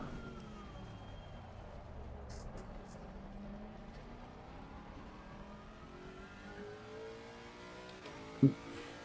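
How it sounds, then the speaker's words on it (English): A GT3 race car with a BMW B58 inline-six engine in Assetto Corsa Competizione drones steadily with rising and falling revs, moderately loud throughout, with a brief sharp knock near the end. "based on like the sound that it's producing, I can only guess it's still using the BMW B58 inline 6"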